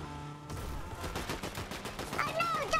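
Gunfire rattles in a Fortnite match, a rapid string of sharp shots at moderate volume with a faint tonal game effect near the end.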